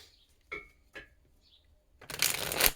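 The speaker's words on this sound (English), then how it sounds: "So I'm just going to shuffle this one last time" A few soft card flicks, then a quick riffle shuffle of a deck, crisp and close, ending with a brief burst.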